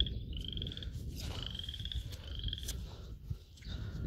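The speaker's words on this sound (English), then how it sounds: "Like a frog over there somewhere." A frog croaks repeatedly in wet woods, its rasping calls mixed with high insect-like chirps over a steady low outdoor rumble, moderately distant.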